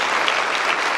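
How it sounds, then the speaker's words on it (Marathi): An audience at a talk by a Tahasildar about MPSC exam success bursts into dense, steady applause, many hands clapping together continuously and close up, with no voices. "आता पुन्हा स्वतःसाठी एकदा अशा टाळ्या वाजवा"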